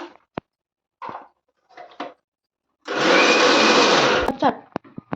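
A mixer grinder whirs loudly in a short burst as it grinds cooked lentils. Brief clicks and clatter come before it, and a few knocks follow when it stops.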